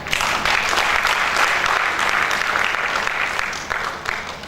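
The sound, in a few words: audience applause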